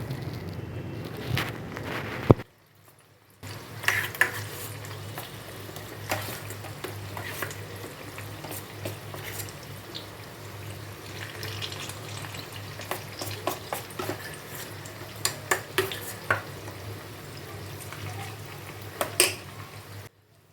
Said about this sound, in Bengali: আর একদম ধিমে আঁচে রেখেছি যাতে আস্তে আস্তে করে তেলটা গরম হয় আর কচুগুলো ভাজা হয়